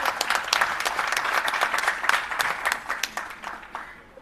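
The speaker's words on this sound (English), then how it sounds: "Yes, you can cheer for that." An audience at a restorative justice conference breaks into loud, dense applause. The clapping is sustained and close, then thins and fades toward the end.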